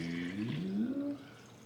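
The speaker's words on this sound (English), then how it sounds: "So now we're going to pour our next 5 solo cups" Liquid Jello poured into a plastic solo cup, a short steady stream of splashing that fades as the pour ends, close and fairly quiet with no voices.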